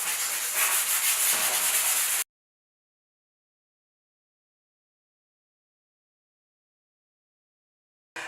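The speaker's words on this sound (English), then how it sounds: "You don't need to over buff, just get off the high shiny spots" A pad rubs old sealer off a concrete countertop with a short, steady close buffing scrub that lasts about two seconds, followed by silence.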